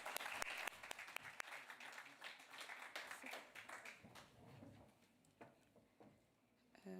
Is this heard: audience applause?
yes